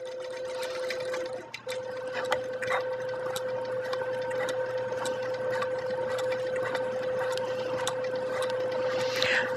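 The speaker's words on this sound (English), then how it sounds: "So I'm letting the sewing machine do the work" A computerized sewing machine stitches while couching thread, running as a steady close whir with a rapid, even ticking of needle strokes throughout.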